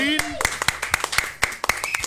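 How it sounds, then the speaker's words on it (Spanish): On a Spanish-language studio programme, a few people clap in a brisk, regular rhythm of sharp, close claps, with a voice audible at the start and under the clapping. "brindar un aplauso"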